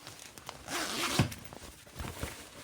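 A zipper on a serger-sewn puzzle bag being pulled open in one quick, close, quiet zip with faint handling rustle around it.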